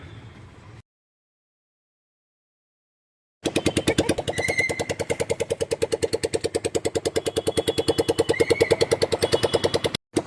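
Auto rickshaw engine firing up after silence, settling into a rapid, even chugging putter that runs close and loud for several seconds before briefly cutting out, with no talk.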